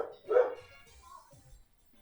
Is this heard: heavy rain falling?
no